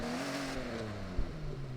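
Jaguar E-Type engine in the Forza Horizon 6 racing game, a steady mid-pitched drone that shifts down in pitch partway through, with a short bump near the end.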